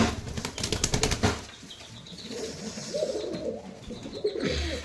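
Pigeons in a loft flap their wings in a loud close flurry, then settle into soft cooing and shuffling, with a few more wingbeats at the end.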